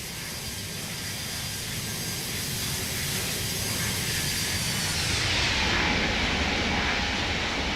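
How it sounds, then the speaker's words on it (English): A jet airliner, an Airbus A320neo, roars past in a flight simulator, a loud broad rushing whoosh that builds and shifts pitch as it passes, with no voices. "Flyby sounds are pretty darn good."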